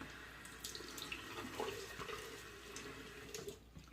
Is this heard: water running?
yes